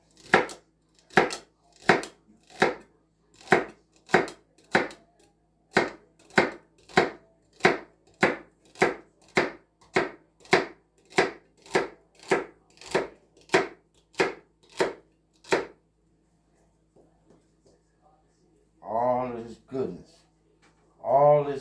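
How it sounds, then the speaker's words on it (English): Vegetables for a stew pot are chopped with a knife on a cutting board, about twenty-five steady, evenly spaced thunks at close range, then a pause and a voice speaking briefly. "All this goodness y'all see me chopping up, that's all gonna go into the pot."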